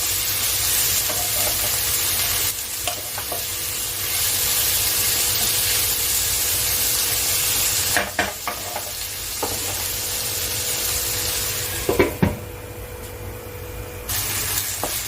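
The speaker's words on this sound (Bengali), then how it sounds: "এবারে গ্যাসটা সিম করে আমি ভালো করে ভেজে নিই" Onion, garlic, tomato and chili powder frying on a low gas flame, a steady close sizzle with occasional stirring scrapes and clatters, no talking.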